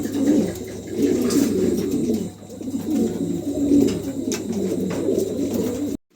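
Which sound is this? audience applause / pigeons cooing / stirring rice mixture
pigeons cooing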